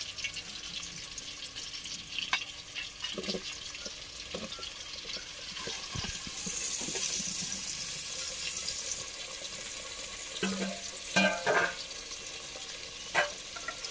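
Potato pieces and onions frying in a pan for a mutton curry, a soft, uneven sizzle with intermittent clinks and scrapes of stirring, heard fairly close and moderately quiet.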